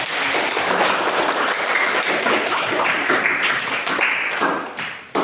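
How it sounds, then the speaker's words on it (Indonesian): A classroom of students claps for group 4 after their presentation, a dense, steady round of hand clapping that fills the whole stretch at close range and fades briefly near the end. "berikan tepuk tangan sekali lagi ya"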